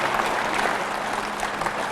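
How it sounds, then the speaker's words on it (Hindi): An audience applauds Avinash, a cancer survivor, on a live yoga program: dense, steady clapping from many hands fills the whole moment at an even level, with no talking over it. "पहले तो जोरदार तालियां इसके लिए, अविनाश के लिए"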